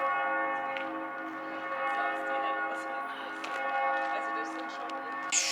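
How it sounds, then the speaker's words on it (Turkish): Church bells ringing in Vienna near the Opera House, a steady sustained peal with layered ringing tones and occasional brighter strikes, moderately close and continuous throughout. "Bu arada çanlar çalıyor."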